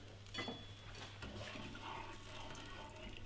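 Hot poultry stock with filtered morel soaking liquid is poured from a pot into a baking dish, a continuous close gurgling stream with a low, faint underlying hum.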